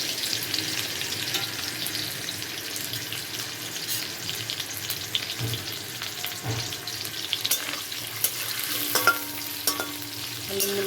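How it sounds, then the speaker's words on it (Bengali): Potatoes and radish fry in oil seasoned with coriander and cumin seeds, a steady crackling sizzle with occasional stirring scrapes and light clinks throughout, no voices. "আলু মূলোটা এখন ভালো করে আমি ভেজে নেব।"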